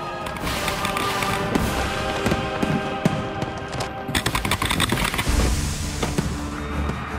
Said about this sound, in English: Eric's steel cannons lob the show's biggest shells to frame the Peace Tower.